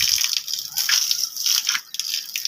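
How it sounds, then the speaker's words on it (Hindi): Water is poured from a small bucket onto a potted plant at home, making a steady, splashing hiss that swells and dips over a couple of seconds. "पानी मैं इसको डालूंगा।"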